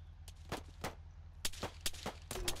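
Distant gunfire in the military game Arma 3, a handful of sharp, moderately faint shots spaced irregularly over a low steady background hum.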